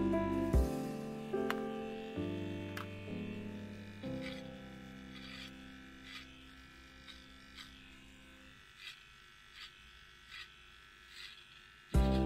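Electric dog clippers buzz steadily at close range while trimming a dog, their pitch stepping down a few times, with soft clicks and brushing throughout.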